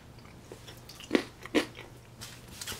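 Someone bites into pan-fried tofu bacon, and a few crisp crunches stand out close up, followed by softer chewing sounds, with no talking.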